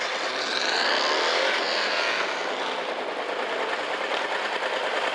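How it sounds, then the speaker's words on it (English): A Rover V8 engine fitted in a converted Ferguson T20 tractor at a vintage and country show, running loud and close with a continuous rough roar and a slowly rising and falling revving tone. "Can you give us a bit of a sound of that Rover V8?"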